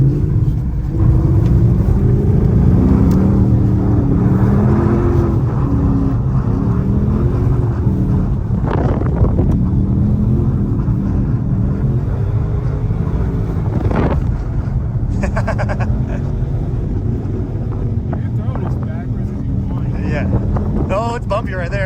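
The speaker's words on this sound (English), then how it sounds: "we are drifting on ice" A Ford Mustang drift car slides across a frozen lake, its engine rumbling loud and close under heavy wind buffeting, with revs rising and falling and occasional bumps and knocks, while people talk over the din.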